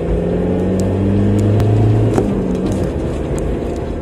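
A car drives past on a residential street, its engine a steady low rumble that swells and then fades.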